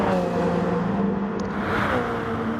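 Porsche race car engine in the GT Sport racing game, a sustained whining drone that holds steady and then rises slightly as it overtakes, heard alone without talk.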